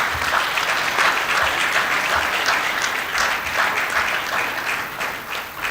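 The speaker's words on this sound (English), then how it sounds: "you can go ahead and give a round of applause to Ghana" Audience applause at the signing of a peace pact between Ghana's presidential candidates ahead of elections, sustained dense clapping from a sizable crowd filling the whole span at an even level.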